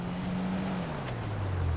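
Engine drone of a truck driving in GTA 5 Online, a steady low hum with pitch sliding gradually downward as it runs, heard alone without talk.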